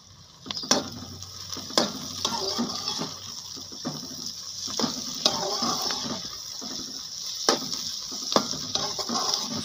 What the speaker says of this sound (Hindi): इसको थोड़ी देर फ्राई करेंगे